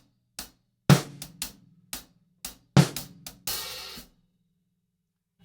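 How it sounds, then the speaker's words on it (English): Drum hand pattern, hi-hat and snare strokes in a sparse, crisp rhythm with an open hi-hat wash near the end, close and alone. "Okay, so the hand rhythm sounds like this."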